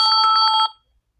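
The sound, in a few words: phone ringing with an incoming call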